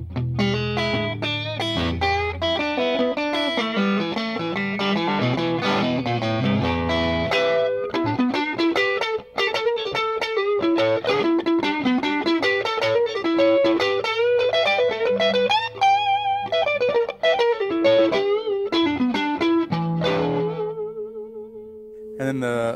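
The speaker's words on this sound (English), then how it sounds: "the front pickup sounds like this." A 1953 Heavy Relic Fender Telecaster electric guitar played through its front pickup, ringing notes and chords with a slightly overdriven, reverberant tone, phrases running continuously and fading out at the end.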